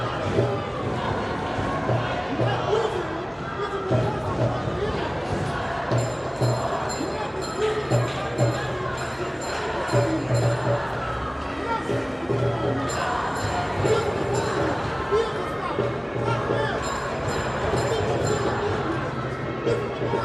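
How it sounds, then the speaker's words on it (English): A small but vocal crowd at an anti-ICE protest in Manhattan keeps up a steady roar of shouting and noise for the whole stretch, with voices blending into a continuous din and occasional louder swells. "It's a small crowd here, but they are very vocal. They are making a lot of noise."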